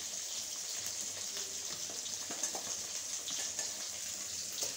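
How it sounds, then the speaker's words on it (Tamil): Two fish frying in a pan in a home kitchen, a continuous bright sizzle with crackling and spitting of oil, steady and close, with no talking. "ரெண்டு மீனை யூடியூப் வீடியோ எடுக்கிறதுக்காக வேண்டி நான் வந்து பொரிக்கிறேன்"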